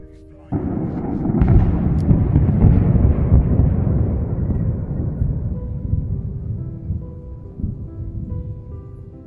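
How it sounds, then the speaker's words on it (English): A single loud thunder boom during a storm in the UK breaks in suddenly, then rumbles and slowly fades over several seconds, heavy and close with no voices. "this one single loud, soul-crushing boom that you will hear in the footage"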